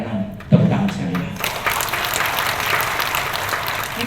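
A church congregation breaks into clapping after a short thud and a voice in the first second, and the crowd's applause then swells into a dense, steady roar that carries to the end.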